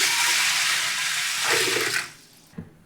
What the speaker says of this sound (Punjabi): ਕੁੱਕਰ ਵਿੱਚ ਪਾ ਦਾਂਗੇ ਹੁਣ ਆਪਾਂ ਦਾਲ ਤੇ ਨਾਲੇ ਆਪਾਂ ਇੱਕ ਗੜਬੀ ਪਾਣੀ ਦੀ ਪਾ ਦਾਂਗੇ